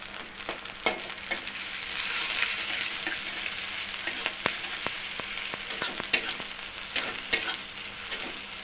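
Chopped garlic sizzles steadily in a hot pan while being fried for a spicy tomato chutney, with sharp clicks and scrapes of stirring breaking through the continuous hiss at close range.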